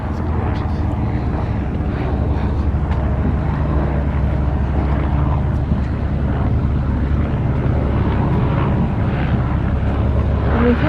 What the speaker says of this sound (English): That's a helicopter sound